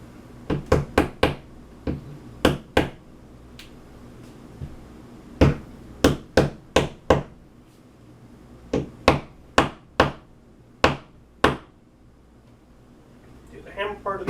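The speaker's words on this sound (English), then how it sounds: "Do the hammer part of the anchor." A series of sharp hammer blows driving a wall anchor into a wall, some in quick bursts of three or four, others spaced apart, with quiet gaps between and faint background noise.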